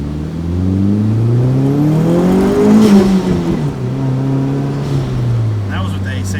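A Nissan 240SX at full throttle, engine rising in pitch through a gear, easing off briefly and then pulling again, loud and close from inside the car, with voices talking over it.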